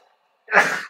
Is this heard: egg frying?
no